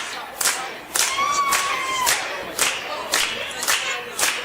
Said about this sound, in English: we need some hand clapping to get started.